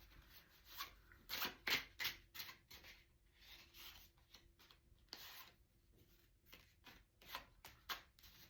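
A new tarot card deck being shuffled by hand: quiet, close riffling and rubbing bursts of card noise in irregular rhythm, repeated many times with short pauses between.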